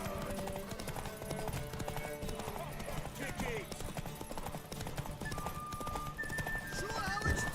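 Hooves clip-clop in a fast gallop as a horse runs in The Witcher 3, with neighs and snorts, cheering voices and the game's music and ambience around it.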